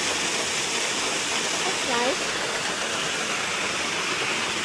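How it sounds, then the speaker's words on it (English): Waterfall at Minneopa State Park near Mankato, Minnesota, a steady broad rushing roar of falling water heard close and continuous, with a person speaking briefly over it. "It's the waterfall."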